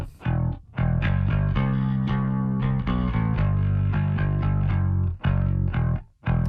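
An electric guitar with distortion, run through the Audio Damage Rough Rider 3 compressor plugin, plays sustained chords and notes with a smooth, compressed tone, briefly pausing between phrases.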